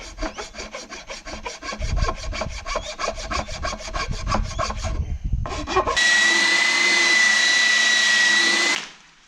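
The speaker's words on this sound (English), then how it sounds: "tune these corners up where I could get the sander in, and then I'm just going to give it a go with a, say, a 120 grit sandpaper" Hand sanding of wooden corners on a hanging TV stand with 120-grit sandpaper makes about twenty rhythmic rasping strokes, close and loud. A steady powered whine from the electric sander then takes over before stopping.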